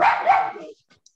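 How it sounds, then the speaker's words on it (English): Another dog barks in the background during an online rescue meet-and-greet, giving one or two short, sharp barks fairly close by that end abruptly into near silence. "Oh, there goes the other dog."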